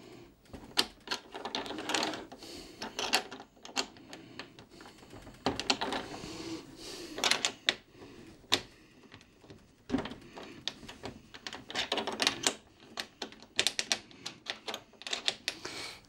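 A wrench works on a screw while someone assembles a oneConcept Carribean Blue 3-in-1 air conditioner, fan and humidifier unit. Irregular metallic clicks and ratcheting taps come in bursts with pauses between them, fairly close and quiet.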